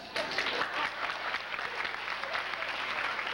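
An audience applauds at a 1992 school talent show, a moderately faint, steady patter of clapping that rises quickly at the start and continues evenly.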